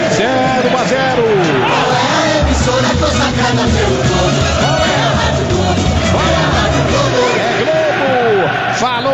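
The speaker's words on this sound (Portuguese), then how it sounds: "Torcida grita mais forte aqui no Japão." Corinthians fans shouting and chanting in a stadium in Japan during a Club World Cup match against Chelsea, a constant roaring crowd beneath continuous radio commentary.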